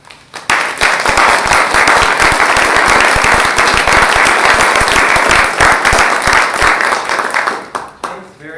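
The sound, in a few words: audience applause welcoming lecturer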